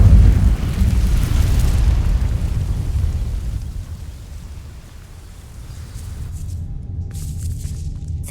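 Fire spell igniting dry vines in Hogwarts Legacy: a loud, rumbling whoosh of flame bursts up at once and roars for a couple of seconds, then fades to a lower crackling rush that continues steadily to the end.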